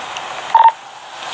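A short burst of telephone touch-tone dialing, a few quick beeps packed together and standing clearly above a faint hiss of background noise.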